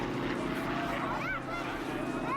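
A T-6G Harvard propeller aircraft flying at the Chennai air show, with a steady, droning engine and propeller hum at moderate distance that holds even throughout, along with a faint whine that rises and falls.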